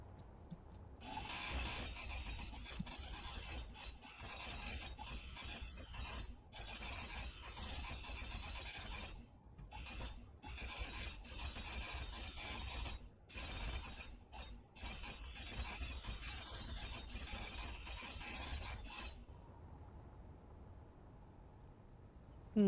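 A block being ground down with a grinder in Space Engineers, a continuous whirring, rattling mechanical drone with brief stutters and gaps, fairly quiet, ending in near silence.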